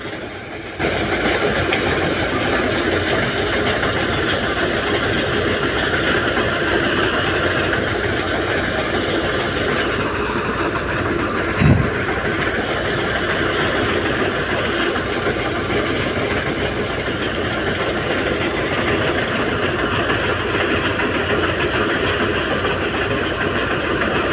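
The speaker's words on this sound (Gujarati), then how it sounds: "કરી નાખ્યું હલર ચાલુ" A thresher runs steadily to separate fennel seeds on a farm, giving a loud, continuous mechanical roar and rattle that holds throughout, with one brief knock partway through and no voices.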